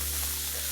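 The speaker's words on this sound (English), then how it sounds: "Saute this till the raw smell goes off." Ginger and garlic paste sautéing in a pan gives a steady, close, even sizzle with a faint stirring texture and no pauses.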